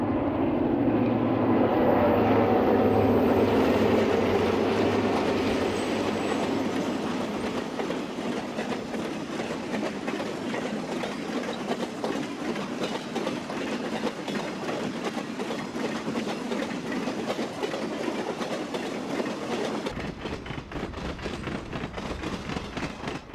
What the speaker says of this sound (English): Here comes Train 102, the eastbound City of San Francisco.